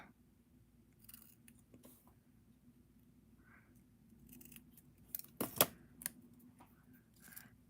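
Scissors trimming paper for a homemade card, heard as a few quiet snips and light rustles in a near-silent room, with a brief louder cluster of cuts toward the end.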